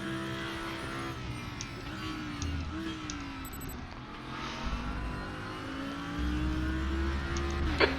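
A race car engine in a racing video game, on the Zhuhai circuit, whines continuously at close range. The pitch climbs and drops sharply with gear shifts and braking, and the sound stays loud and steady throughout.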